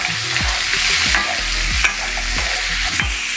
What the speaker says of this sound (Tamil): இப்போ வெங்காயம் போட்டுக்கலாம். வெங்காயம் போட்டு வதக்கலாம்.